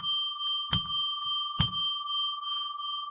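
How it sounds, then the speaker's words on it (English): A small hand bell rung on a live psychic radio show, two clear strikes a little under a second apart, each ringing on with a long steady sustained tone, loud and close with no talking. "I'll ring a bell 3 times to declare sacred space."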